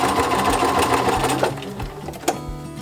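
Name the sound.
sewing machine stitching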